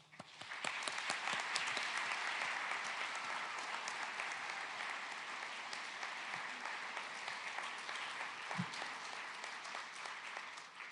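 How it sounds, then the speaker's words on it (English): A graduation audience applauds homeschool graduates, a dense, even wash of clapping heard from some distance that holds steady for the whole stretch. "Could we all give these students a big round of applause?"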